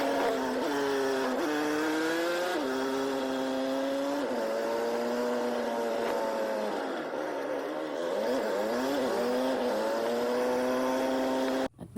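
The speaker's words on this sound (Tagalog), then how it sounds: "At nakasakay na nga ako ng tricycle papuntang Perez" A tricycle's small engine drones steadily from the ride in the Philippines, a close continuous motor hum that rises and falls slightly with throttle changes, with no talk over it.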